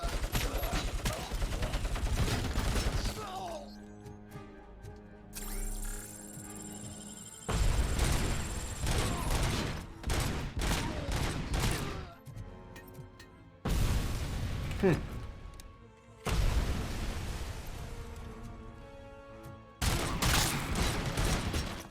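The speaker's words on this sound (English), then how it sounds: "Oh, it's a heavy machine gunner." Bursts of heavy machine-gun fire from an enemy gunner in the video game Robocop: Rogue City, loud sustained volleys broken by short pauses and mechanical clanks, repeating several times.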